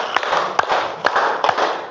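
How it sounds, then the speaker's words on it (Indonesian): Five sharp hand claps from a classroom clapping game land at roughly even intervals over a hissy background noise, close and distinct. "Tepuk lima."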